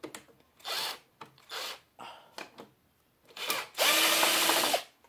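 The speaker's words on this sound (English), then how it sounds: "Of course, you're gonna need a screw gun." A screw gun whirs in a series of short bursts while backing screws out of an RCA television, about five quick spins followed by one longer run, close and fairly loud with gaps between.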